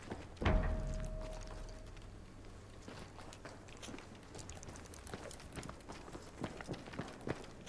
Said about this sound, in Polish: Ktoś koło mnie biegnie chyba?